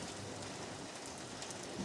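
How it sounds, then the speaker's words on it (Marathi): Heavy monsoon rain during days of flooding, a steady dense hiss of downpour on surfaces with no pauses, loud and close throughout. "एवढा जोरजोरात पाऊस येतोय"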